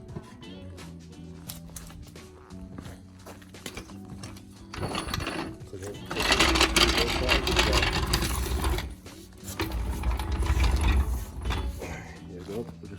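A jack is raised under the wheel of a BMW E92 335, giving a repeated ratcheting clicking and creaking close by in uneven bursts that grow louder and denser partway through, with voices talking over it at times.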